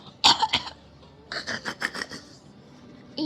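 A small child gives two quick coughs up close, pauses, then lets out a run of five or six short coughs in a row, with no talking.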